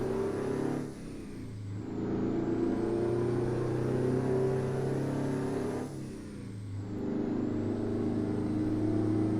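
A two-stroke truck engine in American Truck Simulator revs hard and steady, dropping briefly twice as gears shift, then climbing back into a loud, buzzing, sustained drone with no talk.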